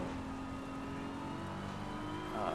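A BMW M4 GT3 race car in an Assetto Corsa Competizione rain race at Barcelona, with a steady engine drone and wet road noise as it slides over the curbs. The sound is continuous and loud, with no one talking.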